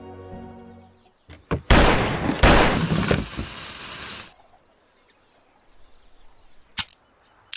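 Gunfire in a film battle scene: a few sharp isolated shots, then a dense, loud burst of rapid fire lasting a few seconds, fading into quiet rumble with one more sharp crack near the end.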